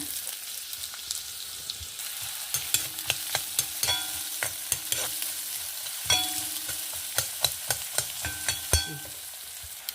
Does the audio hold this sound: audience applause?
no